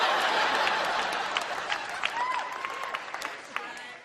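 An audience claps in a round that starts full and thins out over a few seconds, sharp individual claps lingering at the end, with some chuckles and voices mixed in.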